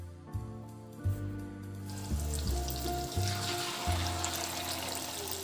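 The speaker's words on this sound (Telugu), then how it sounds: "ఇలా మారినేట్ చేసుకున్న ఈ చికెన్ ముక్కలను ఆయిల్ లో డీప్ ఫ్రై చేసుకోవాలి" Marinated chicken pieces for chicken 65 deep frying in hot oil on a medium flame, a steady close sizzle and bubbling with soft thuds as pieces drop in one by one.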